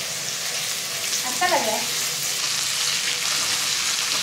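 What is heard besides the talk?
onions frying in a pan for Hyderabadi chicken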